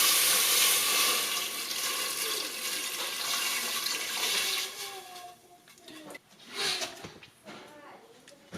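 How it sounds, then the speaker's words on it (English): Water pours into a scorching-hot pan of Cincinnati chili, making a loud, hissing rush of sizzle that gradually fades to a quieter, uneven bubbling. "we're going to go ahead and add our water now"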